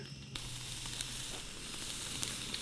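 Brats and sausages sizzle on an outdoor grill, a steady close crackling hiss with small pops running throughout, no talking.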